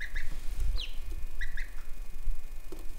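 Ducks on a homestead give short, quacking calls in quick bursts, close by and fairly loud over a low rumbling background, with a few gaps between the calls.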